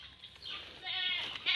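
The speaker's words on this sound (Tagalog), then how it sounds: "Anong sabi ng kambing, nak?" A goat bleats in a wavering, nasal cry that rises and falls, fairly faint, with soft background noise.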